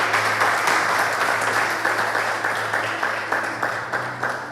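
A church congregation applauds together, a dense, continuous patter of many hands clapping at close range, steady and fairly loud for the whole stretch, with faint tonal sound underneath.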